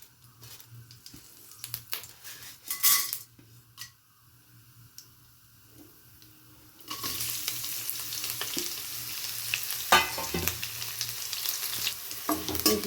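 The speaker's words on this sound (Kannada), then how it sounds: "ಈರುಳ್ಳಿ ಎಲ್ಲ ಫ್ರೈ ಆಯಿತು" Sliced onion fries in oil with mustard seeds, curry leaves and chana dal, first a few quiet scrapes and a brief burst, then a loud, steady crackling sizzle taking over midway and continuing close up.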